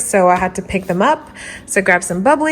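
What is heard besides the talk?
No distinct noise like a dog, phone or traffic.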